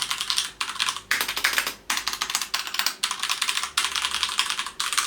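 Clicky wired Ducky mechanical keyboard being typed on in steady bursts of rapid, close key clacks with brief pauses between runs, no voices.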